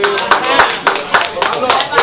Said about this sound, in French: Vous n'applaudissez pas.